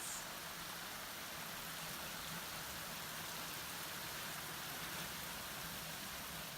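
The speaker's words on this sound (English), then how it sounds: "It's raining" Steady, dense rainfall hissing on surfaces in Canberra, continuous and even throughout, with a faint low rumble of traffic beneath.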